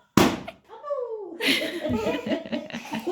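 A balloon bursts with a sharp, loud pop right at the start of a family balloon-popping game, followed by excited laughter and chatter from several people.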